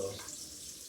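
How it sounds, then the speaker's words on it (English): Tap water runs steadily over juicer parts as they are rinsed at a sink, a soft continuous splash that fades slightly toward the end, with no talking over it. "when you rinse it with water, you pretty much rinse most of the residue the residue from the juice out"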